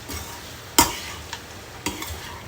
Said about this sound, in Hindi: ये साबूदाना इसके अंदर डालकर और अच्छे से हमें इसे मिक्स कर लेना है